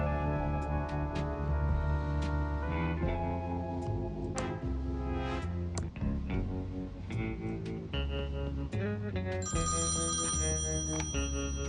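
A telephone rings in the point-and-click adventure game Thimbleweed Park, its repeated bell tones sounding over a steady, busy layer of game music.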